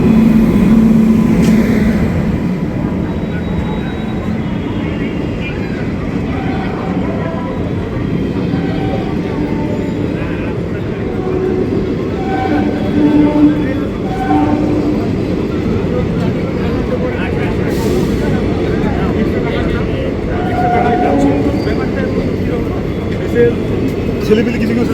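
A diverted express train rumbles past in a steady, loud rolling roar on Indian rails, with wheel and carriage noise filling the scene and voices talking faintly underneath.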